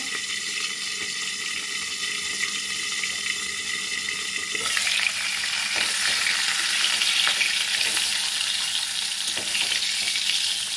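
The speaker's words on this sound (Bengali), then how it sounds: "মাথাটা একটু লাল করেই ভেজে নেবো।" A fish head fries in hot oil, browning as it cooks, with a continuous bright sizzle that swells louder about halfway through and carries scattered crackles. No one talks.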